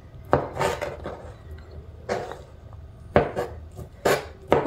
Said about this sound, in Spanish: Ahora vamos a partir el jamón en cuadritos también chiquitos.